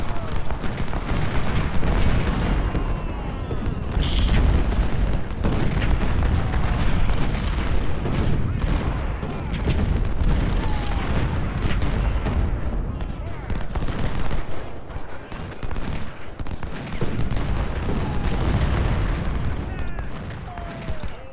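Mortar and artillery fire thunders through a Civil War battle in Ultimate General: Civil War, a dense, continuous barrage of booms and crackling volleys that stays loud throughout.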